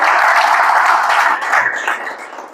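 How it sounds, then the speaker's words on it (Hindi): Loud applause from an audience at a magnetic therapy health talk, a dense steady wash of clapping that gradually thins and fades over a few seconds. "मैडम के लिए जोरदार तालियां हो जाए"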